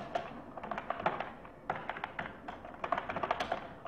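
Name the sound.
typing C code on a computer keyboard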